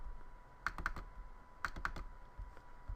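Computer keyboard typing during 3D animation work shows up as a few quiet, close clicks in two short bursts, with faint room tone between them.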